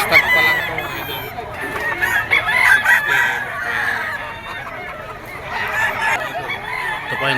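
A young rooster, a stag of high-action hatch bloodline, crows repeatedly and loudly among other fowl clucking and crowing nearby at a busy gamefowl market in Bocaue, Bulacan, with steady background bustle.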